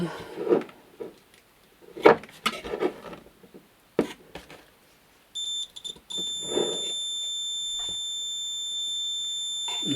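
A multimeter continuity buzzer checks the tweeter of a Quadral Rubin Phonologue E loudspeaker during a capacitor refurbishment. Handling clatter and taps come first, then a brief broken beep, and finally a sustained, shrill continuous tone that holds until the end.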